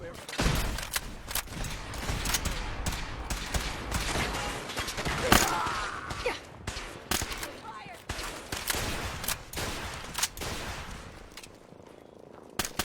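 Rapid bursts of gunfire crack through a Fallout 4 firefight, with dense volleys and single sharp shots near and loud, tapering toward the end; a voice speaks in between.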